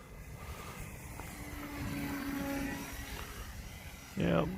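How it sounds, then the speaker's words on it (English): A foam board RC plane flying outdoors, its motor a steady distant drone that swells and fades slightly as it passes, ending in a brief louder burst near the end. "That's one problem with these foam board planes, is you just about have to trim them every time you fly them"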